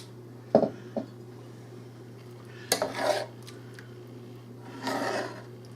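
A spoon scrapes and clanks against a pot as milk is stirred into one-pot pasta and meat, with a few sharp metallic knocks followed by longer rasping scrapes over a low steady hum.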